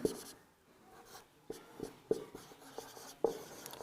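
Pen or chalk writing letters of the English alphabet during a maths lesson on sets, a series of scratchy strokes and taps in short bursts, fairly close and quiet, with no talk.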